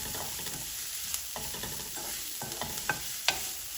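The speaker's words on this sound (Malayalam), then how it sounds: "ഇനി നന്നായിട്ട് ഫ്രൈ ചെയ്തെടുക്കും" Dried prawns and onion frying in a pan with Kashmiri chilli powder, a continuous crackling sizzle broken by irregular spatula scrapes and sharp pops, close and alone.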